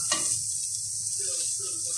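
Bacon and onion sizzling in a hot pan and being turned over, a steady bright crackle of frying fat with faint scraping as pieces are flipped, close and continuous.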